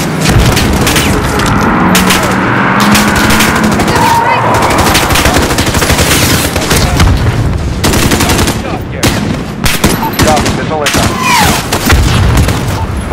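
Call of Duty: Modern Warfare combat while defending a compound, with dense rapid machine-gun bursts, sharp gunshots and booming explosions, loud and continuous, with radio-style voices talking beneath the gunfire.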